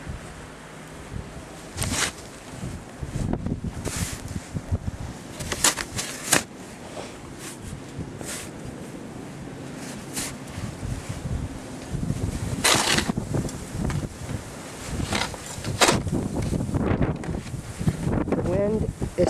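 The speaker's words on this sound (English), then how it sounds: "The wind is still blowing." Blizzard wind buffets the microphone outdoors in gusty, rumbling bursts with rustling and crunching close by, and people talk intermittently.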